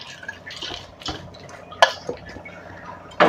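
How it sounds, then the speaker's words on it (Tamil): Dry dal lentils tipped into a pressure cooker in a home kitchen, a scatter of light clinks and rattles against metal with a louder clatter at the end, close and without speech. "அதையே நம்ம குக்கரில் டக்குன்னு போட்டுடலாம்"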